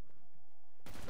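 A single sharp burst of gunfire rings out in a zombie shooter game, sudden and loud after a quiet stretch.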